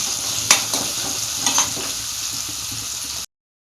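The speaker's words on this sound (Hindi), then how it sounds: "अब इन्हें थोड़ा भून लेते हैं प्याज को।" Two sliced onions sizzle in a hot pan with crushed chilli and cinnamon while a spoon stirs them, giving a steady close hiss broken by a few scraping strokes before an abrupt cut to silence.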